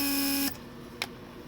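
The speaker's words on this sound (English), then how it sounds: "Let's just do our last lock and unlock cycle and we'll be good to go." The central locking vacuum pump of a Mercedes 300SD runs during a lock cycle, a steady electric whine for about half a second that cuts off, followed by a single sharp click in the quiet.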